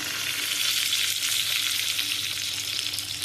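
Garlic frying in a pan for dhaba-style dal tadka, giving a steady, loud, close sizzle that continues without a break and with no voices over it.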